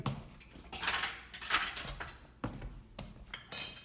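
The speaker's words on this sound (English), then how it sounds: "More dishes out of the way." Dishes and cutlery being moved aside in a home kitchen while stuffed quahogs are prepared, heard as a run of close, light clinks and clatters with a sharper knock near the end.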